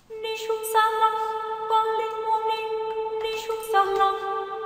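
Sibelius plays back a sampled choir from a vocal library with some notes shifted in time, giving sustained sung chords that change pitch in steps, moderately quiet and with no talking over them.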